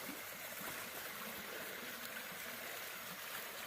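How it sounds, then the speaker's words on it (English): A creek runs under rocks near a small hidden waterfall along a forest trail, a steady, soft, broadband rush of flowing water with no breaks and no voices. "There's a hideaway waterfall in there."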